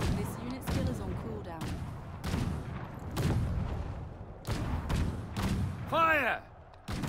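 A unit fires volley after volley in the video game Conqueror's Blade, as sharp, loud musket cracks repeat in irregular bursts, with a shouted command rising between the shots.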